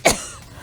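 A single sharp, deliberately exaggerated fake cough, close and loud, meant to sound like a sick person with TB, then a quiet tail with no talking.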